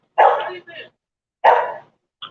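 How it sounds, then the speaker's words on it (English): A neighbor's dog barks twice in loud, close bursts at someone on a porch in Texas, then gives a short yip, with brief pauses between. "the neighbor's dog is barking at me."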